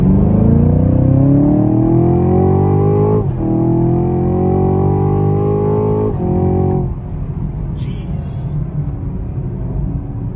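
Deep V8 engine of a 2023 Chevrolet Camaro SS revs hard in a full-throttle pull, pitch climbing through two quick upshifts before easing off to a lower cruising rumble, heard loud from inside the cabin at night.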